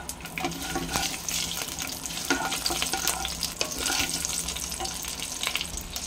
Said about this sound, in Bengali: আর দিলাম কারি পাতা আর দিলাম 1 কোয়া রসুনকে 2-8 করে আর 3টে কাঁচা লঙ্কা